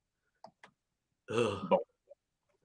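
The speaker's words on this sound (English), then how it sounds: "Excuse me, burping here." A single short burp at a live outdoor metal detecting event, mid-volume and close, with a few faint clicks before and after and otherwise quiet surroundings.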